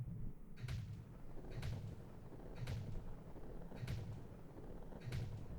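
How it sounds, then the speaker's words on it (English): Fireworks bursting over the midnight festival on the third day in the video game The Legend of Zelda: Majora's Mask, five sharp cracks at a steady interval of roughly one per second over a constant low background rumble. "Fireworks, yay! Let's party. It's like New Year's."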